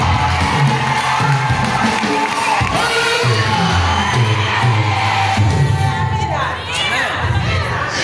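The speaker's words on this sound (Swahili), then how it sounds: "Sikia makofi kwa Bwana." A church congregation applauds and cheers, a loud, dense crowd roar with clapping, whoops and scattered shouts sustained for several seconds, with voices mixed in.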